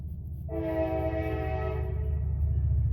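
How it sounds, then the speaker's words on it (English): A train rumbles steadily nearby while a loud horn blows once, a sustained chord that swells and then trails off over the low rolling noise. "Sorry for how loud that train is."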